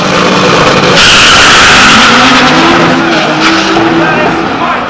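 A drag race car launches at Jamwest Speedway during eliminations, its engine roaring loud and close with screeching tires and a sustained rising howl that stays loud throughout.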